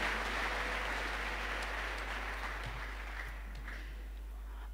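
A church congregation claps together in a broad, steady wash of applause that fades gradually toward the end.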